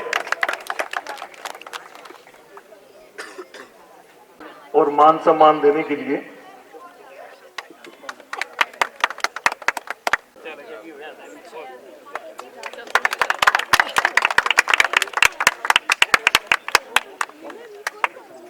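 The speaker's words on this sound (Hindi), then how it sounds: "एक बार जोरदार तालियां हो जाए।" Crowd applause bursts out at an evening political gathering in a Sirsa neighbourhood park, with a short burst early and a longer, dense run of clapping later, mixed with someone talking over a loudspeaker.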